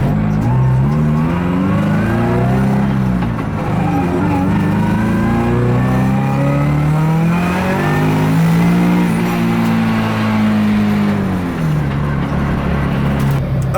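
A turbocharged Scion FRS with a straight pipe exhaust drives off loudly, its raw engine note climbing and falling through the gears in a sustained, close, rasping roar.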